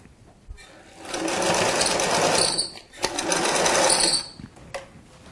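A sewing machine stitches a small hanging tab onto the back of a Christmas stocking, running in two steady whirring bursts of about one and a half seconds each, separated by a brief pause, close and loud with no talking.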